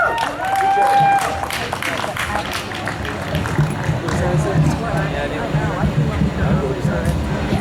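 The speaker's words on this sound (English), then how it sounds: "Clap it up for Miss Katie." Audience clapping for a poet at a festival in Johnson City, Tennessee, a dense burst of applause with crowd noise that fades under ongoing talk and background hubbub.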